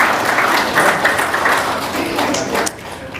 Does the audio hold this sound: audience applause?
yes